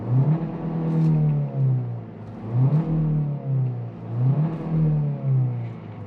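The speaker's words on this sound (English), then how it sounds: "the car would let you redline if you're in park and in sport mode as well" A 2024 Hyundai Kona N Line engine, parked in sport mode, revs toward redline in three rising sweeps that fall back each time. It is loud and close, with no talk.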